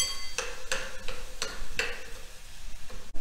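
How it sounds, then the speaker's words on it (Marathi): Cucumber and jaggery mixture sautéed in a pan, with a few sharp spatula scrapes and clinks spaced about every third of a second over a soft background hiss. "आता हे चांगलं परतून घ्यायचं।"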